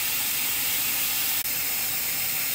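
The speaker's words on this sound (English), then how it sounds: "it's been steaming like that for the last 3 minutes" Steam hisses loudly and continuously from a canner, a broad steady rush with one brief dropout midway.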